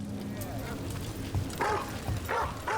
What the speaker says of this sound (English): Oh, there's some fierce dogs in here.